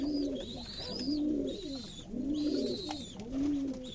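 Pigeons cooing close by at a Giribaz pigeon farm in Rajshahi, repeated rolling coos in a steady rhythm, several birds overlapping, with no talking.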